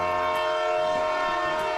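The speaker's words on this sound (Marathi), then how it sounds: "फायनली आमची ट्रेन प्लॅटफॉर्मवर आली" A passenger train pulls into a railway platform, a steady loud rumble with a sustained tonal hum throughout, close by and continuous without speech.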